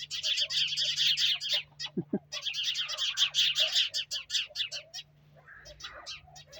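A chorus of local sparrows chirps busily and continuously behind a daffodil field at a village home in Ukraine, with dense overlapping tweets fairly close by, a brief low knock in the middle and the calls thinning toward the end.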